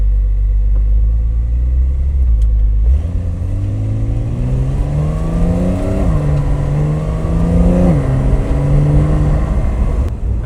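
A 2026 Porsche 911 engine revving up through several rising sweeps, loud and close, with the pitch climbing and dropping between pulls.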